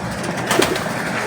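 A racing pigeon coos softly once amid a steady background hum, close by and brief.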